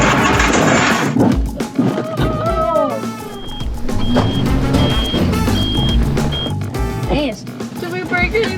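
A Jeep Gladiator truck shuffles back and forth through a multi-point turn off-road, its engine rumbling and revving under steady talk, with a repeating reversing beep chirping at intervals in the middle.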